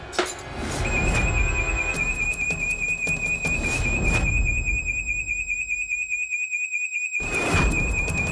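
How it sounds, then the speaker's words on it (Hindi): A fire alarm rings with a steady high electronic tone and pulsing beeps, loud and close, over scuffling movement, then cuts out briefly before resuming. "फायर अलार्म, कहीं आग लगी है, भाग।"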